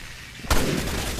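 A single heavy gunshot from a sniper rifle in the video game Resident Evil 6 cracks out midway, with a booming tail that rings on afterward.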